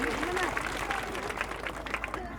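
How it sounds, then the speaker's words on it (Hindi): Crowd applause at a women farmers' rally, moderate and slightly distant clapping mixed with murmuring voices and chatter from the gathering. "जोरदार तालियां उनके लिए भी।"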